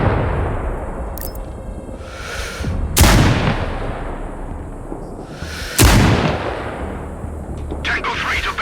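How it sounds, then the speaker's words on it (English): Two loud, sharp blasts of barrels exploding in the video game Sniper Ghost Warrior Contracts 2, a few seconds apart, each with a rumbling decay, over a continuous background of combat noise and crackling. "I heard an explosion. Barrels destroyed."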